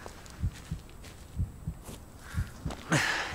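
A heartbeat sound effect in a horror video game thumps in low, paired beats at a steady pace, moderately loud, with a faint ambient hum and a brief rustle near the end.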